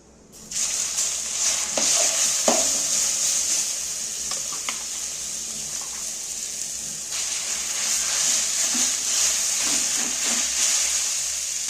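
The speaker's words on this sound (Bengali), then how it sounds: "এইবার আমি ওই ফোড়নের যে তেলটার মধ্যে ফোড়নগুলোর মধ্যে ভালো করে একটু ভেজে ভেজে নেব আমটা" Grated raw mango sizzles loudly in hot spiced tempering oil with chillies, a steady bright frying hiss broken by scattered stirring clinks, and no one speaking.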